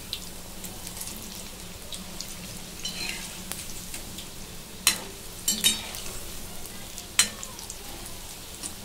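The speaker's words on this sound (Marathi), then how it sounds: "आता ही दुसरी बाजू पण तळून घेऊ." Spinach bhaji fritters deep-fry in hot oil with a continuous soft bubbling sizzle, broken by a few sharper crackles and spatters partway through.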